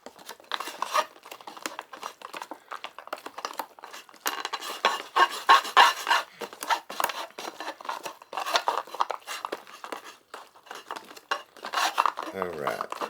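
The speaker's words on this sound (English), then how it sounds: "Alright, give it one more stir." A utensil stirs freeze-dried chili mac inside a mylar meal pouch at close range, with steady crinkling of the pouch and soft scraping strokes.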